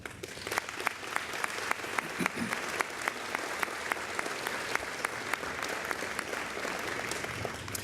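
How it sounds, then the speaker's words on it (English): Luncheon audience applauds this year's university award winner at a homecoming event, a sustained, even round of clapping from a roomful of people with a few sharper individual claps standing out near the front. "Will you please join me in a round of applause for this year's winner, Mrs. Sarah Short Austin"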